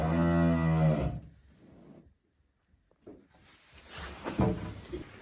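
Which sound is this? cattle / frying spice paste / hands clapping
cattle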